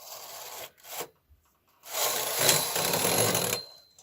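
Knitting machine carriage sweeping across the needle bed to knit a tuck stitch on a sock, a close scraping, rasping rush in two passes with a brief pause between, slightly noisy and in need of adjustment.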